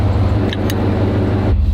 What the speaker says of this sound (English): Get the hubs locked in, put in 4-wheel drive, and probably drive right up.